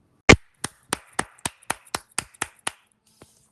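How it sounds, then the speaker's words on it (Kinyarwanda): A short round of hand clapping: one sharp loud clap followed by about nine evenly spaced claps in a steady rhythm, close and dry, with a faint final tap. "amashyi reka rwose nyatange"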